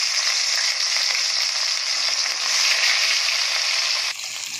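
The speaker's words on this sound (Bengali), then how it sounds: "এই যে তেল দিয়ে দিয়েছি, মাছটাকে ভেজে নেব।" Fish rubbed with salt and turmeric fries in hot oil, giving a steady, bright sizzle that runs unbroken and fairly close, softening slightly at the very end.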